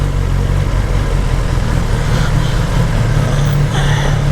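A racing motorcycle engine idles steadily close by with a continuous low rumble, outdoors near a house at dusk, with no speech.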